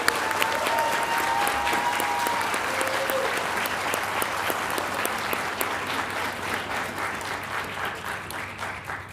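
Loud, sustained applause from the audience at a city council meeting recognizing honorable mention artists, steady dense clapping that fades slightly over nine seconds, with a brief tonal sound near the start.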